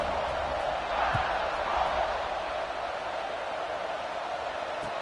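A college football video game stadium crowd at kickoff with Texas Tech, a steady broad roar of many fans holding constant at moderate loudness, with faint thuds within it.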